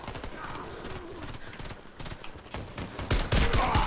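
Pistol fire in a video game, a series of quick close shots over busy game noise, growing louder and denser toward the end.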